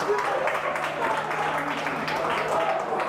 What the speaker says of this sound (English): Bringing the crowd to their feet in elation, in celebration of the try.